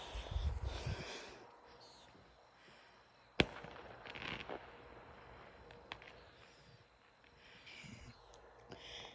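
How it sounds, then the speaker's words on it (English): Distant fireworks burst outdoors at night, one sharp loud pop among fainter scattered cracks and crackles over quiet ambient noise. "There's some fireworks out there."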